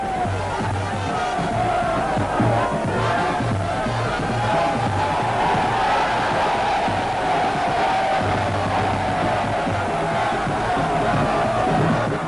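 A large crowd roars and cheers at a Nigerian presidential campaign rally for Chief Moshood Kashimawo Abiola, a dense, continuous wash of voices and shouts holding steady for the whole stretch.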